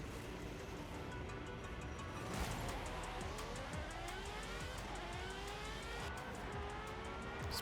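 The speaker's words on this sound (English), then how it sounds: "It's an interesting engine noise." Aston Martin Valkyrie in Forza Horizon 5 howling through rising and falling revs, a high-pitched race-car scream with quick gear changes, steady and fairly close throughout.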